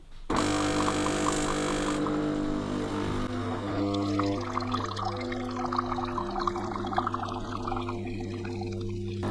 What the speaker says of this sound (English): now we're just going to hit the button and it's just going to put through just water.